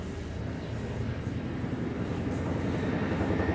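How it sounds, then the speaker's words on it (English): A steady low engine drone rumbles throughout as a helicopter flies overhead at a distance, continuous and fairly even in loudness. "Is that a helicopter?"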